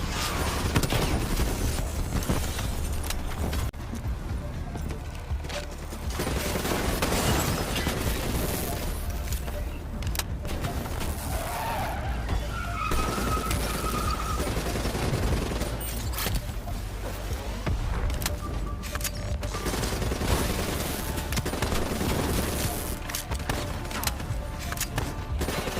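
Dense, continuous gunfire and explosions from a Call of Duty Black Ops campaign battle, rattling bursts and booms running loud and unbroken throughout.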